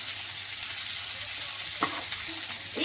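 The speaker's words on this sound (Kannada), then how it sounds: "ಈಗ ಅದಕ್ಕೆ ನಾವು ಕ್ಯಾಬೇಜನ್ನು ಹಾಕೊಂಡು ಫ್ರೈ ಮಾಡ್ತಾ ಇದ್ದೀನಿ" Cabbage and browned onion fry together in a pan with a strong, even hiss of hot oil, close up. One or two short scrapes of a spatula come near the end.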